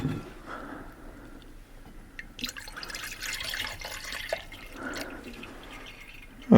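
Waste oil fuel trickles and bubbles into a homemade burner, a faint liquid gurgle and drip with a couple of louder swells, ending with a sharp knock.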